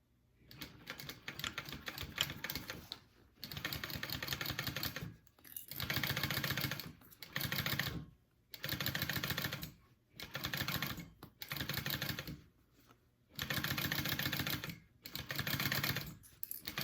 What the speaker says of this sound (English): I'm going to sew that closed.